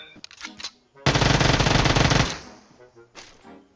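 A SCAR-L assault rifle in a video game fires one rapid automatic burst of about a second, loud and close, with fainter shots and game sounds around it.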